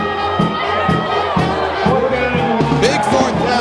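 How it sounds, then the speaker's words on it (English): A high school football crowd roars and cheers through a big fourth down near the goal line, loud and sustained, with rhythmic chanting or stomping beats underneath and voices over it. "The crowd's getting into it, trying to make it difficult for Grafton."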